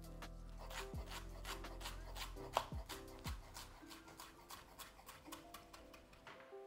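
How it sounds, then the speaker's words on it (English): A knife chopping thin parsley on a board in a kitchen, with a fast, even run of close, crisp taps and faint rasping strokes over low background hum. "I will cut some thin parsley to add on top"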